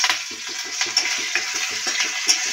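Cumin, dried chili, garlic and curry leaves frying in oil for a kadhi make a light steady sizzle, with a rapid regular tapping of a whisk or spoon against a bowl close by.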